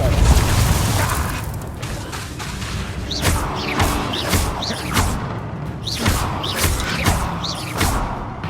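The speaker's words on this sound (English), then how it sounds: "Confringo." In Hogwarts Legacy, the Confringo blasting spell fires repeatedly, each cast a sharp whooshing crack followed by a booming impact, roughly a half-dozen loud blasts landing about a second apart over a rumbling backdrop.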